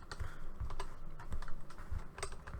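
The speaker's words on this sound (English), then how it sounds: "I moved my microphone in front of my keyboard to try and reduce the clicking" Computer keyboard keys clatter close to a microphone placed right in front of the keyboard. The clicks and thumps are irregular and steady, with no voices.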